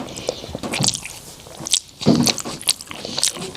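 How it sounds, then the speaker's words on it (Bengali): Someone eats roti with tender chicken curry at a homestay on the Mim Tea Estate near Darjeeling, with close, soft biting, squishy chewing and small crunches at an irregular rhythm. "আমি রুটি খাচ্ছি রুটি ওই তরকারিটা দিয়ে আর চিকেনটা দিয়ে"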